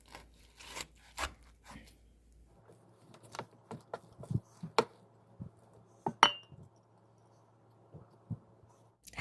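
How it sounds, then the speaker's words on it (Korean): A knife cuts avocado and vegetables such as kale, lettuce and onion on a cutting board, giving a series of sharp, close chopping taps and scrapes with short pauses between strokes. "쉽게 비벼 먹도록 이렇게 자른 후 반으로 더 잘라 주겠습니다"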